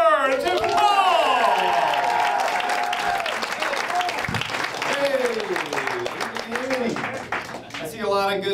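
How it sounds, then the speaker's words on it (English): Applause and cheering from a comedy club crowd as a comedian takes the stage, with loud whoops and shouts riding over the clapping throughout. "Big round of applause for Paul Hoover."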